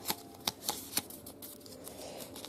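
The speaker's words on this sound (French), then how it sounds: "Et on va tirer un papier." Slips of paper being rummaged and one drawn: a few crisp, close papery rustles and flicks in quick succession, then softer faint handling.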